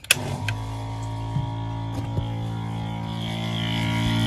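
A switch clicks, then a small electric water pump motor in a camper van hums steadily, with a few faint knocks and the pitch rising slightly.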